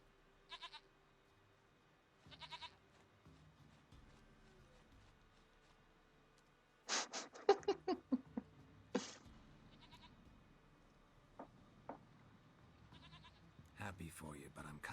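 A goat in The Witcher 3 bleats in several short, close calls scattered between quiet stretches, with game character voices talking around them.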